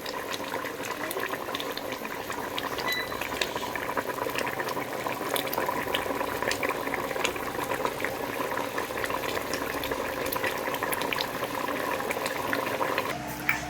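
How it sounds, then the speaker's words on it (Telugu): Fish curry made with shilavathi fish bubbling in a pot, a steady close boil of dense popping bubbles and simmering liquid that continues evenly throughout, no voices. "వావ్ చక్కగా ఉడుకుతుంది కదా కర్రీ"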